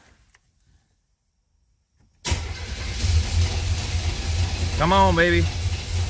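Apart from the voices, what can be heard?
old Buick car engine starting and stalling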